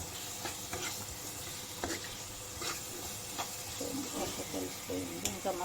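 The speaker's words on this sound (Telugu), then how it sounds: "ఇక్కడ రూప్చందు ఇగిల్ కర్రీ చేస్తున్నాను నేను ఇప్పుడు" Roop chand fish curry cooking in a pan, with a constant sizzle broken by repeated spoon clicks and scrapes as it is stirred, close up, with a brief bit of faint background sound.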